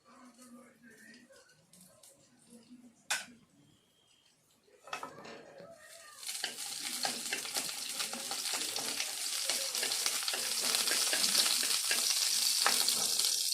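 Ghee and carrot paste in a wok: after a quiet start with faint voice and a few clatters, a loud hissing fry surges in and builds steadily, mixed with scraping stir strokes.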